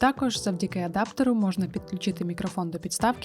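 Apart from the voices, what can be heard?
No everyday noise stands out behind the speech.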